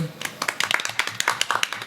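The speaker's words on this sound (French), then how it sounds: "On va applaudir bien fort" Studio audience applauding during a French television broadcast, brisk irregular claps close and fairly loud over a short burst, with some voice mixed in.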